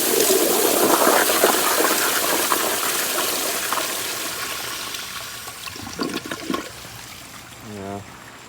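A 1992 Kohler Kingston toilet with a Water Guard flush valve lets out a loud, rushing gush of water that slowly fades into trickling and refilling, heard up close, with a few faint voice sounds near the end.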